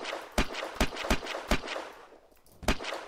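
Raiding gun in Unturned fires a steady series of six loud, evenly spaced shots, each a sharp broadband crack with a short decay, with a brief pause before the last.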